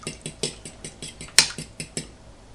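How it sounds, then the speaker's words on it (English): Eggs beaten in a bowl with a utensil for a flour batter to fry pumpkin blossoms, producing a brisk regular series of close clicking taps against the bowl, about five per second, with one sharper clack partway through. "And then I beat my eggs pretty well."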